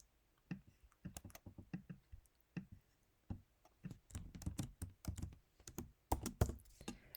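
Typing on a computer keyboard during a Python coding session, a quiet close stream of uneven key clicks in short bursts with brief pauses, the taps crowding together toward the end.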